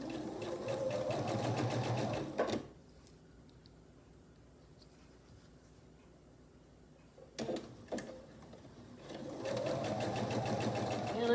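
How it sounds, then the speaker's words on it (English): A sewing machine runs a scant quarter-inch seam on a rail fence quilt block, whirring steadily for a couple of seconds, going quiet for several seconds, then starting up again near the end. "I'll take it to the machine, a scant 1/4 inch seam right along here."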